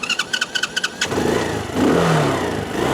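A Venom x21 125cc four-stroke pocket bike in neutral with partial choke: a rapid series of starter cranks, then the engine catches and settles into a loud, close idle that swells with a brief rev.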